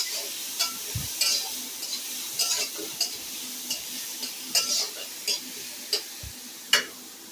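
Onion and five-spice seeds frying in oil make a light sizzle under scattered clicks and taps of a spoon against the pan, close and fairly quiet.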